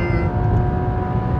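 A Porsche 991 GT3 RS accelerating on a race track, its engine a loud, steady, close drone with stable tonal harmonics held throughout a brief moment, no voices.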